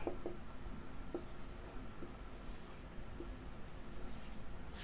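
Pen or marker scratching out a reasoning question on a board or paper in a Hindi exam-prep lesson, soft intermittent strokes over a steady faint room hiss, no talking.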